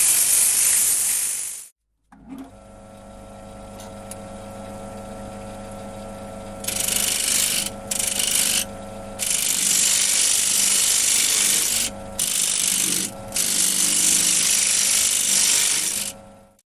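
A wood lathe spins steadily as a tool cuts decorative detail into a wooden picture frame, a constant motor whine overlaid by loud bursts of hissing, scraping cuts that start and stop several times.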